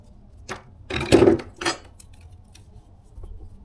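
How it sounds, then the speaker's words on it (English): Needle nose pliers from Home Depot snapping through Romex electrical cable, a few close, crisp crunching snips bunched together in a short burst, with quiet between them and no talk. "Can the needle nose cut Romex all the way through?"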